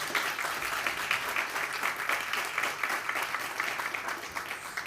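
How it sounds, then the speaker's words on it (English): An audience applauds the speakers at a forum on integrated community forest management with sustained, even clapping from many hands at moderate distance, steady for about five seconds with no talk over it. "Can we just have another round of applause for these amazing speakers?"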